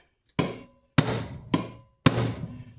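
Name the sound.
hammer whacking tractor brake part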